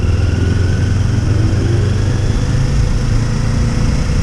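A motorcycle with a stock exhaust idling close by, a steady low rumbling exhaust throb with no clear revs.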